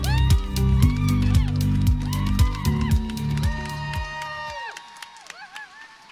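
A crowd cheers and whoops loudly at the Miss Universe Ireland crowning ceremony, with sustained shouting that fades out near the end.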